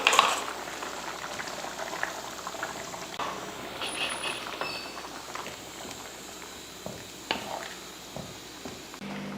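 Vegetables boiling in a pot of sambar, a soft continuous bubbling and popping simmer, fairly quiet and close, with no talking.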